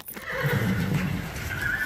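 A racehorse at the track neighs loudly and close up in one sustained whinny with a rising tail, heard alone.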